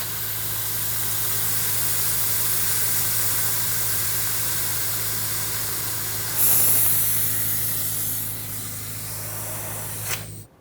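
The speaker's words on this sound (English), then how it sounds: "using either a vacuum pump with a little reservoir on it or a fluid transfer pump" A vacuum or fluid transfer pump draws brake fluid out of a Ford Excursion master cylinder, producing a steady, loud hiss that swells briefly near the end, then fades and cuts off.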